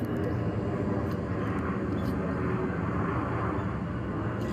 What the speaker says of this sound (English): There's a plane passing.